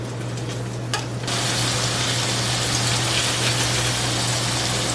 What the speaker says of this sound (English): we're going to brown these sausages on both sides, hopefully flipping them just once